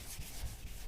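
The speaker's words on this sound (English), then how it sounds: "pick up the DA and grab some sandpaper" A DA sander with sandpaper works over a Nova's car body, producing a close, hissy rubbing and scraping sound that swells and eases in quick repeated strokes under a low rumble.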